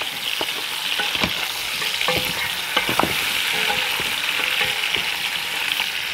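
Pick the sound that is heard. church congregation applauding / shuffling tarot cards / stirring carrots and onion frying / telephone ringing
stirring carrots and onion frying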